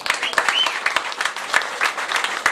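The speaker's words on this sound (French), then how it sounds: "applaudissements du public" An audience applauds at the podium ceremony of the 2009 Boucle de l'Artois cycling race, Hesdin to Bapaume: a dense, steady wash of many hands clapping close by, with individual sharp claps standing out throughout.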